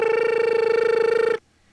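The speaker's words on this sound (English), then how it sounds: "Like Maryland, lots of Crossbar 5 with that kind of ring." A telephone rings through a Crossbar 5 exchange in Van Nuys in 1974, one buzzy, steady ring burst lasting over a second that cuts off abruptly into a quiet line.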